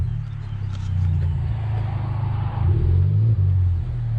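A 2018 Honda Civic Type R fitted with a racing exhaust and cold air intake rumbles at close range with a deep, steady exhaust drone and a slight swell in revs partway through, loud and without speech.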